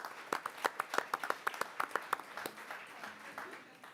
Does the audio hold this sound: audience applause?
yes